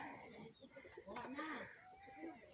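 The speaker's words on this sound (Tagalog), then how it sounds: "so merong mga manok mga idol" Chickens on a rural Philippine farm cluck and chirp in short bursts, moderately near, with background voices under and around the calls.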